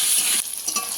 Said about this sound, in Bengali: দিয়ে আলু ভালো করে ভেজে নেব।